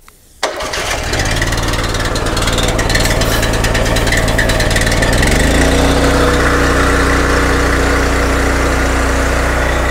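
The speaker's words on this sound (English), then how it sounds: "We'll just do a quick start and come around and have a look." A Honda IGX petrol engine on a pressure cleaner with a choke and no throttle cranks, catches and settles into a loud, steady full-rpm roar that holds to the end.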